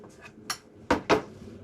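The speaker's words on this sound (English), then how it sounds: "And stack the plates, Jeremy, after that." Plates being stacked in a busy restaurant kitchen, three or four close ceramic clinks, the last two louder and sharper, in a quiet moment with no talking.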